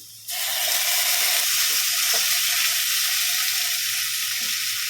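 Potato slices dropped into hot oil with onion, setting off a sudden loud sizzle that stays steady and close, with a few soft scraping stirs of a spatula in the pan.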